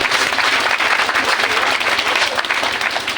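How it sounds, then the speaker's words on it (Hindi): A crowd at a religious discourse breaks into a short burst of loud, dense applause, many hands clapping continuously with no talk over it. "भैया इनके लिए भी तालियां बजा दो।"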